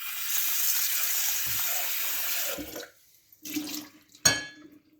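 Tap water runs steadily into a sink while a descaled kettle is rinsed. The flow then cuts off, and a couple of short splashes and a sharp clatter follow close by, with no talking.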